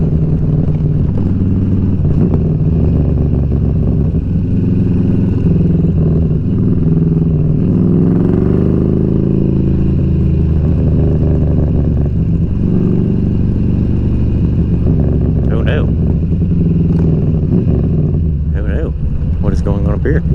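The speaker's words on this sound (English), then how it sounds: "my bike is running funny and I don't like it" A motorcycle engine runs unevenly while the bike is ridden, a loud, wavering mid-range drone with shifts in pitch throughout, as a rider talks over it the whole time.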